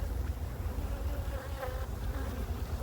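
Honeybees hum in a steady, dense drone at an open hive overwintering two colonies separated by a plastic frame, continuous and close throughout with no talk.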